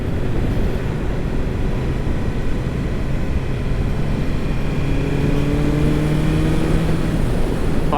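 A 1000cc, 170 hp roadster motorcycle, an S1, pulls hard in fifth gear. Loud, steady wind roar and engine drone fill the whole stretch, and a rising engine tone emerges toward the end.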